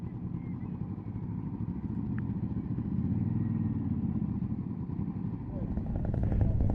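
Motorbikes at a bike night, idling and rumbling nearby in a steady low mechanical drone that swells slightly toward the end, with people talking over it.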